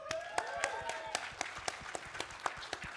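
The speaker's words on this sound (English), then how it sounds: "Big hands of applause." An audience at a global Tesla community event applauds, a dense crackle of clapping hands with a few sharp louder claps standing out, steady for a few seconds.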